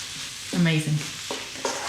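A spoon stirs a sizzling plant-based bolognese in a pan after a dash of salt, with a few scraping strokes over soft frying crackle, close and alone without talk.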